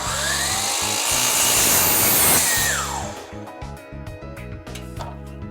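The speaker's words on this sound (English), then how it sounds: "I'm set up to cut this piece of aluminum." Table saw cutting an aluminum angle piece, a loud harsh screeching cut lasting about three seconds, then the blade whines down as the motor hum fades and steadies.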